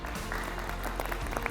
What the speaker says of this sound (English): So I want to applaud you guys and the work you did